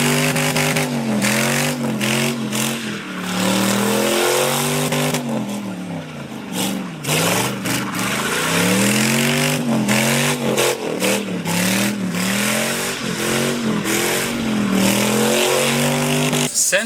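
A turbocharged LS-swapped Ford Festiva revs hard again and again, its engine note sweeping up and down in loud, close pulls with brief drops between, and no talking over it.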